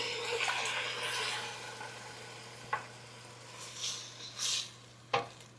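Italian sausage and stewed tomatoes being stirred together in a pan, a steady close sizzle with soft wet scraping and a few sharper clicks of the spoon against the pan.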